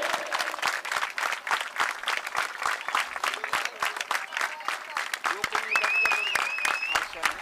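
Cricket crowd at a GPL 2022 semi-final roaring and clapping in dense, steady applause, with whistles piercing through near the end and a commentator's voice running underneath.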